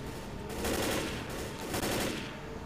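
Loud, continuous rattle of a mounted machine gun turret in Left 4 Dead, rapid close automatic fire hammering steadily for a few seconds with game noise behind it.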